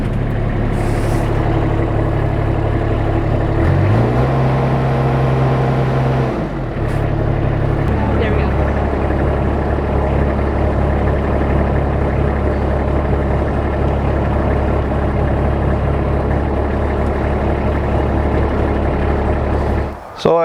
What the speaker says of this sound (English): an overview of the RTV-1100 with a new front snowblower on it